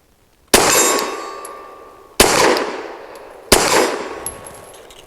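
Three loud, sharp shots from a Saricam S19 pistol, spaced over a few seconds, each a sudden crack followed by a ringing decay.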